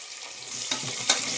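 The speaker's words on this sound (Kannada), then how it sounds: "ಇದು ಚೆನ್ನಾಗಿ ಫ್ರೈ ಆಗ್ತಿರಲಿ." Onion and green chilli fry in a pan with a bright, steady sizzle, broken by two quick stirring scrapes in a brief moment.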